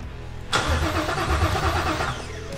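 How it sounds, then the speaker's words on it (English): A 7.3L Godzilla V8 in an S550 Mustang is cranked on the starter with fuel connected, breaking into a loud, rhythmic churning close by for about two seconds before the sound cuts back to a quieter hum. "So that was the very first time we've ever tried cranking this thing with fuel hooked up."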